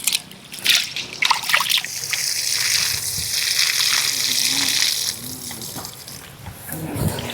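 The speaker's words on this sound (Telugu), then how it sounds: "బియ్యాన్ని 1-2 సార్లు కడుక్కోవాలి." Rice being washed by hand in water for an outdoor village cooking session, with swishing, sloshing and trickling water in irregular bursts, fairly close and loud, without speech.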